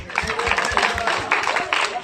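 An audience applauds after a song, a steady patter of many hands clapping in rhythmic bursts, with a voice talking over the clapping.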